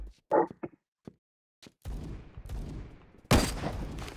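Gunfire in Roblox Phantom Forces, an online first-person shooter: scattered single shots and short bursts, with a loud close burst near the end, over game background noise.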